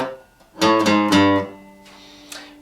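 An acoustic-style guitar plays a bouncy opening riff, a few quick plucked notes ringing close and clear, then a softer chord tail.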